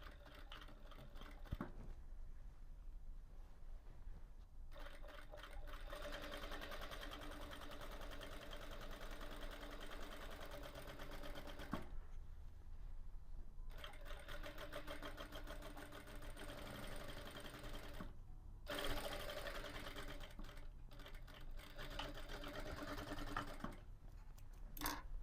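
A sewing machine stitches a seam along a duvet cover in steady bursts of close, rapid clatter, with short pauses between runs.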